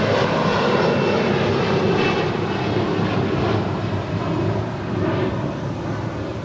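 Qantas heavy jet taking off from runway 25 right at Los Angeles International Airport, a loud, steady jet engine roar that holds at full power throughout with no talk.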